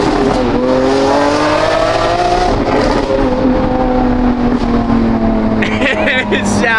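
An aftermarket exhaust on a supercar revs through several rising and falling sweeps, loud and close, with a steady engine drone throughout and a sharper burst near the end.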